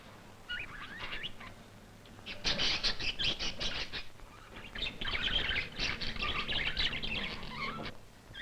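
Small birds in a warm Icelandic hothouse aviary chirp and twitter busily in bursts, a dense, bright chorus with some light fluttering and no voices.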